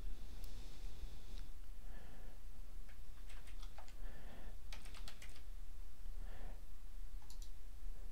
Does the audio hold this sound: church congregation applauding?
no